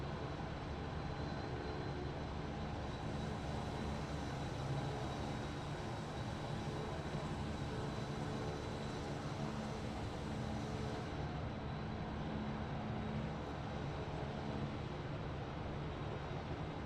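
A Saab 340 turboprop's engines run on the ground at Whanganui after landing, a steady, even drone that holds without pause throughout.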